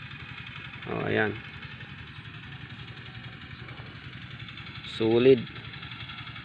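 A Rossi motorcycle engine idles steadily with a low, even rumble, while someone speaks briefly twice over it.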